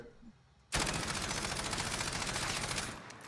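Rifle fire in Warzone, tested with a VLK 3x optic: after a near-silent moment, a sudden, loud, sustained burst of rapid automatic shots runs steadily for over two seconds before easing off.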